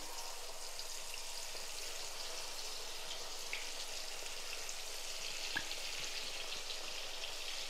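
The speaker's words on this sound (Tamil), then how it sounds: "இப்போ நம்ம மீன் போட்டு பொரிச்சு எடுத்துடலாம்" Fish frying in hot oil as a quiet, even crackle and sizzle that runs throughout, with one or two small pops and no voices.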